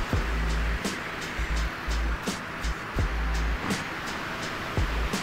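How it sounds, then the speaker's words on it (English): Strong wind and big waves in the sailing game Sailwind: a steady roaring wash of wind and surf with repeated deep thuds of waves striking the boat, no voices. "This is an awful lot of wind blowing, awfully big waves."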